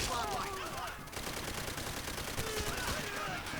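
Gunfire from the World War II shooter Call of Duty: World at War, with dense overlapping rifle and automatic weapon fire crackling continuously, mixed with game effects and some voices.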